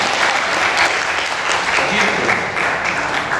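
An audience at an Indonesian religious gathering breaks into loud, sustained applause with dense clapping throughout, and a voice speaks briefly over it.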